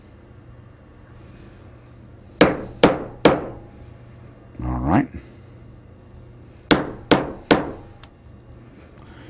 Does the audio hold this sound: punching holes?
yes